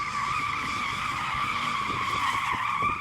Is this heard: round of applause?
no